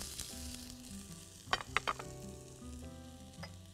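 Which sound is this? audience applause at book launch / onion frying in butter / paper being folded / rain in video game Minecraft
onion frying in butter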